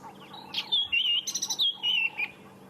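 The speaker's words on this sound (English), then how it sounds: "You can definitely sit and listen to the robins for hours." A robin sings in African bushveld at sunrise, a short run of bright whistled and trilled notes, close and clear with no other sounds.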